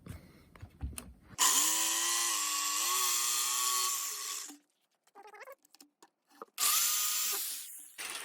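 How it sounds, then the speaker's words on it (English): A jigsaw cuts through a shiplap board in two loud, close bursts, a sustained buzzing whine broken by a short pause with light clicks and taps before the saw starts again. "I can easily push my jigsaw blade down through the opening here and begin my cut."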